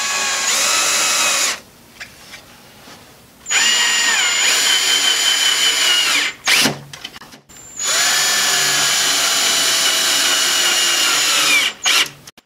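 A power drill drives screws into a wooden Adirondack chair, in two long whirring runs with a short buzz between them, close and loud, and brief pauses of near silence.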